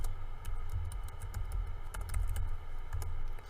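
Steady typing of Python code on a computer keyboard, a close rapid patter of key clicks running continuously with brief pauses, with no voices.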